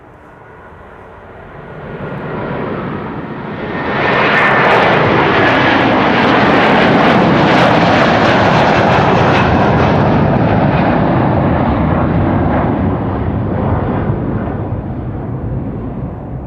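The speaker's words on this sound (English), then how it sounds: "And there's the A330 already. It's rolling." A Delta Air Lines Airbus A330 rolling for takeoff at Schiphol, jet noise stepping up sharply as thrust builds, then a sustained loud roar holding steady before tapering slightly, with no voices.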